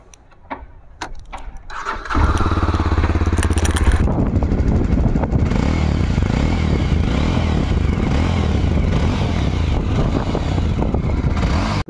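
A Yezdi Adventure motorcycle engine cranks and fires, then settles into a loud, steady, close-up idle with a throaty, even rumble that runs to the end.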